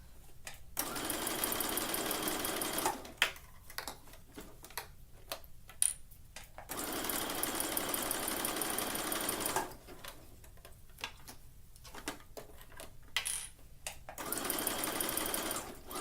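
Home sewing machine stitching a tankini seam, a close rapid mechanical whir in several bursts, alternating with slower runs and ticking pauses as the fabric is eased along.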